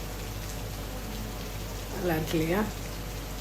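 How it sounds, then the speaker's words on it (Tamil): Heavy rain falls in a steady, even hiss at an outdoor spot like a small resort, with a voice speaking briefly over it. "செம்ம மழை பெய்யுது."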